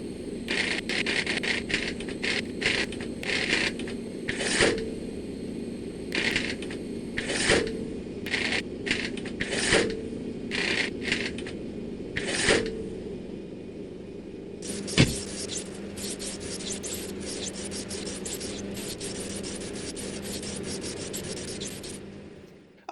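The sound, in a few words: button clicking in OMSI 2 bus simulator video game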